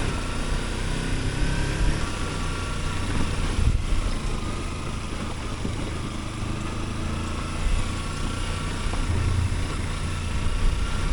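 A Kawasaki Versys X-300 motorcycle engine on a dirt backcountry route, running with a steady hum and drone that stays loud and constant from start to finish, with no speech.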